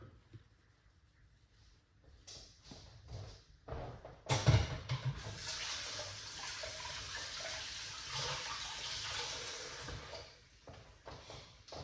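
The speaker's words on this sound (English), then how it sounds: "So pour it out like this, Chef Ricardo." Celery juice pours in a steady splashing stream for several seconds after some quiet handling sounds, then tapers off near the end.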